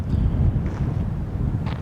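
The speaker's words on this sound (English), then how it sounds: "but it's really windy" Steady wind buffeting the microphone, a low rumbling roar that holds throughout the whole stretch with no voices.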